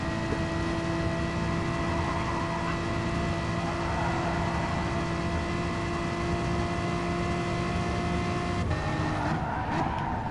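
Race car engine in a racing video game, throttle acting up: a loud, steady high-revving drone with sustained harmonic whine and a brief stutter near the end, no talk.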